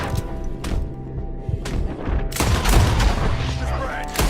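Gunfire in Red Dead Redemption 2 during a frontier shootout, several sharp cracks and heavy booming shots in quick succession, loud and close, with shouting voices mixed in.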